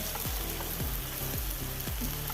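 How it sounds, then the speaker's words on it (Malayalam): Sliced capsicum with Kashmiri chili powder fries in a pan with a steady, dense sizzle, while a spoon scrapes through it in slow, regular strokes about every half second. "ഒരു കുറഞ്ഞ കാശ്മീരി മുളക് പൊടിയാണത് ഇപ്പം ചേർത്തത് നല്ലപോലെ ഒന്ന് ഇളക്കി കൊടുക്കാം"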